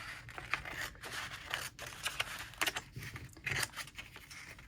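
Regular scissors snip through a plain paper envelope in a run of short, crisp cuts and faint paper rustles, close by and quiet, with no talk.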